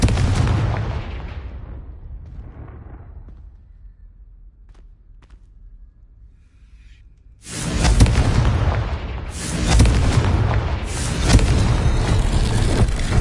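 Confringo fire spell blasts in Hogwarts Legacy: a rumbling boom fading into a quiet stretch, then a sudden loud burst of explosive roaring fire that stays heavy and dense to the end.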